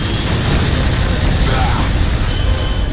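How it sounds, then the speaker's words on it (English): Grenade explosion in the Time Crisis 4 arcade game, a loud, dense boom that fills the whole moment with roaring, rumbling noise amid arcade effects. "Grenade."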